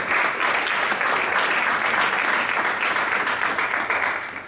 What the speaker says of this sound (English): Give another round of applause for Team Asset Tracking.